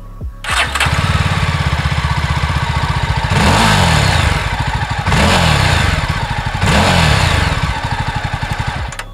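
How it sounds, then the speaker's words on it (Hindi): A Yezdi Scrambler motorcycle engine starts, then settles into a steady, close, thumping exhaust note, with three rising revs that swell and fall back toward idle. "सबसे पहले मैं आपको इसका एग्जॉस्ट नोट सुनाता हूँ।"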